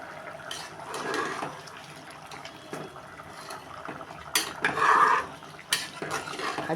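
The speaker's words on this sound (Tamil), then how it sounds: "நல்லா அடிவாக்கில் கிண்டி விடுங்க" Mushroom biryani stirred in a pot, with soft metallic scrapes and clinks of a spoon against the vessel over a quiet background, one louder scraping burst near the end.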